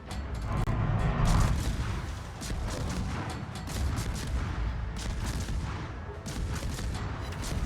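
Naval gunfire in the World of Warships video game, heavy booming salvos and rumbling blasts rolling over one another in a dense, loud barrage that stays continuous throughout, with no talking.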